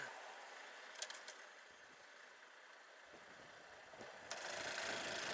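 A Honda Super Cub C125 motorcycle engine held at wide open throttle on a freeway run, a steady mid-pitched drone with wind noise that swells louder near the end.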